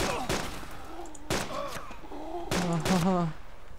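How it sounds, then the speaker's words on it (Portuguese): Three sharp gunshot bursts, at roughly one-second spacing, fired at a zombie in DayZ Mod, loud and close, with a voice talking between and over the shots. "atirei no zumbi"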